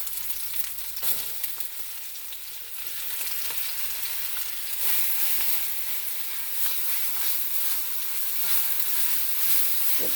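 Green seasoning hitting hot oil in a pot of goat curry, a loud continuous sizzle and crackle that intensifies and stays steady, with occasional stirring scrapes and no talking.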